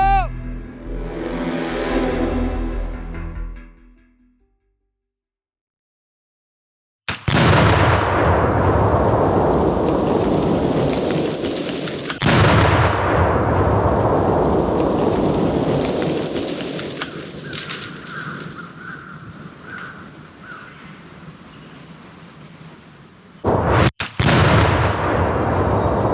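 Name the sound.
gunshots fired at trail cameras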